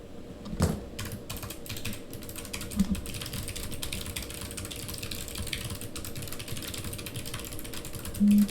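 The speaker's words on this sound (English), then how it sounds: "type this in real quick" Quick typing on a computer keyboard, a steady stream of light, close clicks and taps with a few louder key strikes scattered through, no voices.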